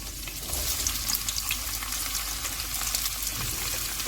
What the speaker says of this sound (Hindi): जब ऑयल गर्म हो जाएगा तो इसमें प्याज डाल देंगे।